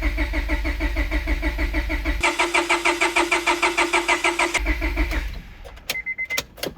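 A Honda H22 VTEC engine in a 2001 Prelude cranking with a rapid rhythmic starter churn for several seconds, then catching briefly, followed by quieter clicks and chirps.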